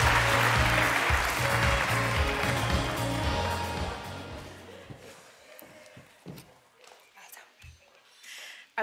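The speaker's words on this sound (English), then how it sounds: "give a huge round of applause once again to congratulate your Product Innovation Award winner" An audience at an awards ceremony applauds a Product Innovation Award winner, loud sustained clapping that gradually thins and fades out over several seconds, leaving scattered claps and light movement.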